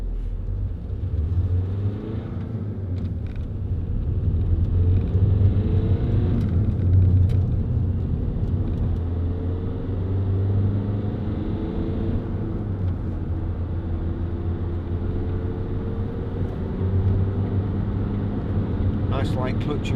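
Low, steady diesel engine rumble and road noise from inside a moving Vauxhall Zafira 1.9 CDTi, with someone talking over it throughout.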